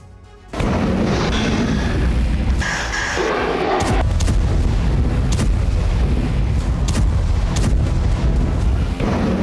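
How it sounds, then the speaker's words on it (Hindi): Heavy booms and artillery fire in Ukraine roll in at close range after a brief quieter start, with layered rumbling blasts and sharp cracks repeating throughout. "यूक्रेन में बम बरस रहे हैं।"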